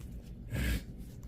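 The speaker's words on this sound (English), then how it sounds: "Sorry for the sniffles." One short, close nasal sniffle bursts out through a stuffy nose in an otherwise quiet room, lasting well under a second.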